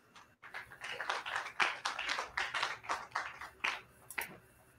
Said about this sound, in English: And with a round of a clap, even as we welcome the speaker